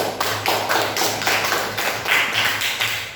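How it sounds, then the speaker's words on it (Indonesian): Students in a classroom give a round of applause, brisk steady clapping from several hands close by, lasting a few seconds with no talk over it. "Kita beri aplaus ya"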